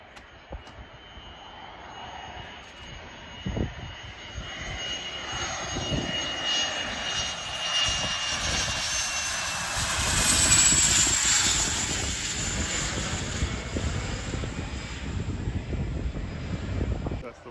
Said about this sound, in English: There's a little RAF jet here.